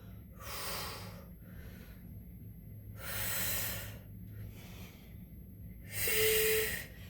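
Three forceful breaths are exhaled during a low-impact cardio and strength workout, each a loud, breathy rush lasting about a second, spaced roughly three seconds apart with quiet in between.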